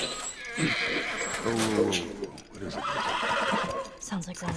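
Horse neighing and whinnying in the video game The Last of Us, with hoof clip-clop nearby, close and fairly loud, mixed with game sounds and voices talking over it.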